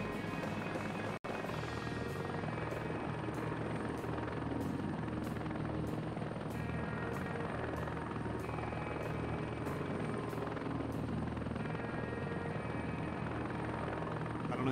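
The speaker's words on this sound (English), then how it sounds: "Watch me destroy my helicopter trying to get this." A helicopter flies low over terrain in the combat game Heliborne, its steady loud rotor and turbine drone filling the scene with a faint rhythmic blade chop throughout.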